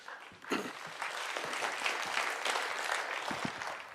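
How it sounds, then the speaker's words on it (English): A snooker crowd breaks into applause after a pot, with steady clapping that rises and holds over a few seconds, moderately distant and without speech. "that was the important red, acknowledged by the crowd"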